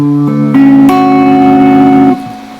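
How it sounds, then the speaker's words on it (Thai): Clean electric guitar played through an amp with reverb switched on: a few ringing chords and notes sustain with a soft reverberant tail, then fade out. "เสียงคีนที่กีตาร์ผ่านตัวแอมนะครับ แล้วเปิดรีเวิร์บ ที่แอมนะครับ"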